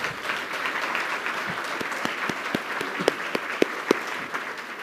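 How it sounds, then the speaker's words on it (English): Audience applause for award winners at a mayor's state of the city address and business awards, a dense steady patter of many hands with a few sharper, louder claps standing out near the end. "Can we have another round of applause for all our winners today?"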